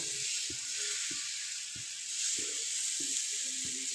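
Gram flour batter sizzles in ghee on a hot griddle, a steady bright hiss with soft scraping taps at regular intervals as it is spread thin.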